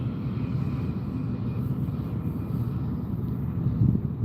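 A Virgin airliner taxiing at Las Vegas airport gives off a steady, distant low jet rumble mixed with wind noise, with no voices.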